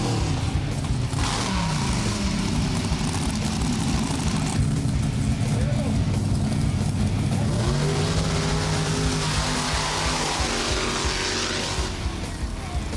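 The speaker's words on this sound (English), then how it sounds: "Small light vehicles, big V8 engines, and we're going to see how they do at the takeoff point." Small, light vehicles with big V8 engines roar off the line at a wet, muddy drag race start, engines revving hard and climbing in pitch, loud and continuous, with tire noise and a voice talking over them.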